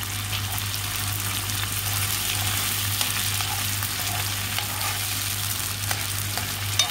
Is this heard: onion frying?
yes